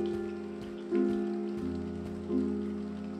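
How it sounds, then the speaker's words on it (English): Steady rain patters continuously on a surface, with a low hum underneath and a couple of soft swells in the background. "How long has it been raining?"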